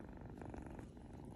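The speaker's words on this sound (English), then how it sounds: "He's purring." A cat purrs steadily and softly up close, a continuous low rumbling vibration with no other sounds.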